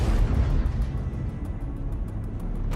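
A Russian infantry fighting vehicle is blown apart by tank fire in combat, producing a sustained, heavy rumbling roar of the explosion that stays loud and dense throughout.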